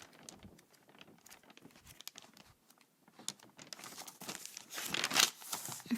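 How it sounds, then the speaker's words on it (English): Book pages rustle and crinkle close by in quiet, irregular bursts as they are turned, growing louder and busier toward the end. "I think you're gonna hear the pages turning."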